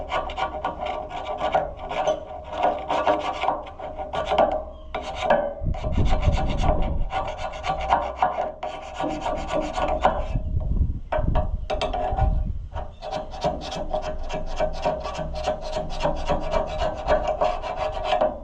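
Carbide burr rasping on carburetor parts of an Oliver Super 55 tractor, a steady scraping grind in repeated strokes, close and loud, with brief pauses and no talk.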